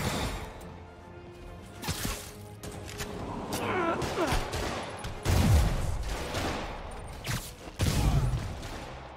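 Police gunfire in Spider-Man Remastered, scattered bursts of shots and impacts mixed with game effects, loud and close, with a few heavier blasts toward the end.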